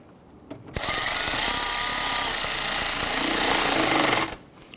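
Power tool driving the cooling fan mounting bolts on a 2017-2020 Hyundai Elantra 2.0L; one steady high-pitched whirring run of about three and a half seconds, loud and close, with no talk.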